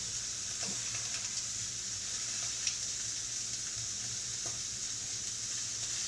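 Beef rouladen searing in a pan, a steady, dense sizzle that holds unbroken at close range, with a few faint ticks and pops of spatter.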